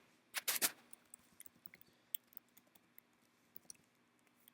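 Keys tapped one at a time on a Mac keyboard, a short burst of loud clacks followed by scattered, fainter clicks at an uneven pace, close and alone.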